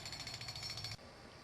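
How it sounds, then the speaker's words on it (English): A jackhammer drives stakes for a 20 by 20 foot frame tent, a rapid, close hammering rattle that runs about a second and then stops abruptly, leaving a low hum. "It takes 2 people to use a jackhammer."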